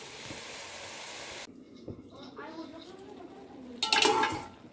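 Greens go into a cooking pan with a soft rustle and faint sizzle, followed by a close metallic clatter as a lid is set down and scraped into place.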